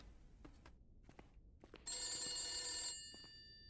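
A telephone rings in the video game The Beast Inside, one bright sustained ring burst of about a second standing out clearly over quiet background with a few soft taps.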